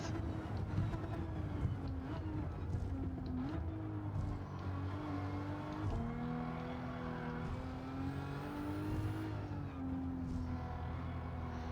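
Engine of a Toyota GR Supra RZ racing in Gran Turismo 7 on the Tokyo Expressway, a steady loud drone with pitch shifting up and down through gear changes and revs, continuous throughout with no talk.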